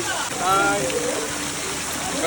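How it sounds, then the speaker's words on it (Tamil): The Courtallam waterfall, a steady rushing hiss of falling water heard from close by, continuous and even, with a person talking over it. "பாருங்கள் குற்றால அருவி."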